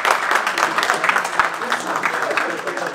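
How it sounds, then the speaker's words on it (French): Audience applause at an evening event, steady clapping throughout with a lot of overlapping hands, some voices mixed into the crowd. "vous pouvez vous applaudir aussi"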